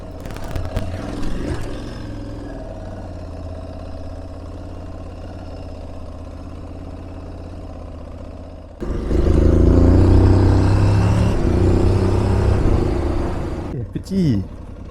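A motorcycle engine idles with a low rumble, then revs up loudly for several seconds before easing off; a voice speaks briefly near the start. Recorded on a track in Morocco.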